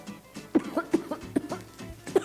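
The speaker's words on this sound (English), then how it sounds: "every time I spray it, I cough and feel like I'm dying" Several short, sharp coughs in quick succession, close and fairly loud, with brief throat-clearing sounds between them.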